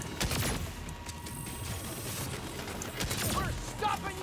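Bursts of gunfire crackle during a boss fight in the video game Saints Row, scattered rapid shots and impacts over a busy game mix, with brief speech in places.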